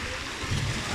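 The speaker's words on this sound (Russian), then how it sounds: "Вот это тут волны" Sea waves break and splash against rocks on the Black Sea coast near Pitsunda in Abkhazia, a dense hissing wash with a low rumbling surge, close and constant.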